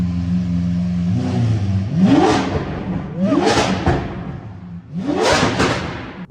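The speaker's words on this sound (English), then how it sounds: "Let's get a couple revs. Rev it up." A Lamborghini V10 is revved three times in quick succession, each blip swelling from idle to a loud howling peak that drops back down. The car sits close by with no voices.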